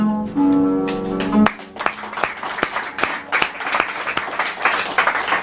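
An audience at a poetry recital breaks into steady applause, many hands clapping in a dense, lively patter that follows a brief sustained tone and continues to the end.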